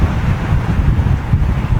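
Blustery crosswind of around 20 knots at London Heathrow buffets the microphone, a loud, gusty roar that rises and falls over a couple of seconds.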